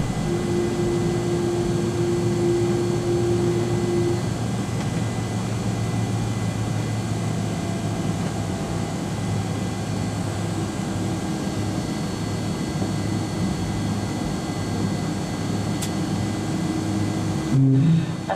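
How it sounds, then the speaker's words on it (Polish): An airliner taxiing to its parking stand after landing on a Quito–Amsterdam flight, heard from inside the cabin as a loud, steady engine drone with a constant whine, plus a brief clunk near the end. "zawróciliśmy na pasie i kołujemy jak na animacji na płaszczyznę postojową dla samolotu"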